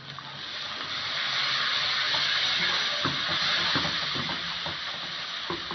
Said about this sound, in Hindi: थोड़ा सा मैं पानी डालूंगी, मसाले कहीं जल ना जाए।